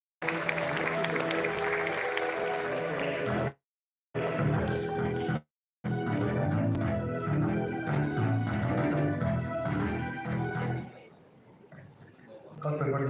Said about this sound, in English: A huge round of applause for Shri Deepak Trivedi